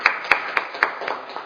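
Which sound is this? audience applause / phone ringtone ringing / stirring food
audience applause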